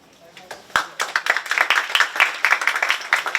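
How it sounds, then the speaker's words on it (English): A group of people at a county party committee meeting breaks into rapid, dense clapping that builds after a sharp first clap and carries on steadily, fairly close. "you're not supposed to clap during debate"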